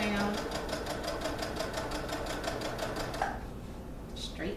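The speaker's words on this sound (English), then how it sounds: "So I'm just going to actually sew along my chalk line." Sewing machine running steadily along a chalk line on legging fabric, a fast even rhythmic stitching drone that stops near the end, with a person talking over it.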